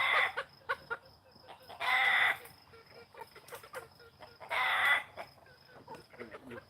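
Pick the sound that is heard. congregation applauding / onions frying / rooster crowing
rooster crowing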